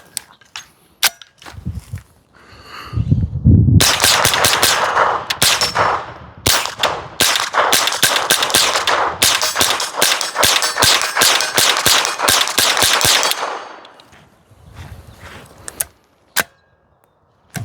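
A CMMG AR .22LR pistol fires rapidly in semi-auto, a long close string of sharp cracks in quick succession amid ringing echo, followed by a few isolated shots at the end.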